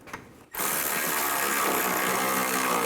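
A ratchet tightens the rear shock bolts on a 2009-2017 Chevy Traverse, with a brief quiet rustle and then a sudden, loud, continuous rapid clicking run that fills the rest of the clip close by.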